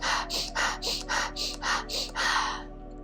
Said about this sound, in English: We're going to be doing a really rapid breath rhythm. So you're going to focus on breathing in through the nose.